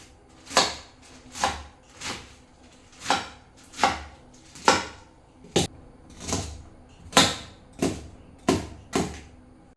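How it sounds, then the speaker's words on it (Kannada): Malabar spinach leaves and stems are chopped on a board with a knife: about a dozen crisp, evenly spaced strikes, close and clear with nothing else around them. "ಬಸಳೆ ಹಾಗೂ ದಂಟನ್ನು ಕಟ್ ಮಾಡಿ ಕುಕ್ಕರಲ್ಲಿ ಹಾಕಿದ್ದೇನೆ"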